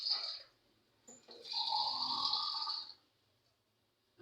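A full cup of water is poured into a cooking pan for ginger tea, a short splashing stream of about a second and a half, close and clear, with brief quieter trickles around it.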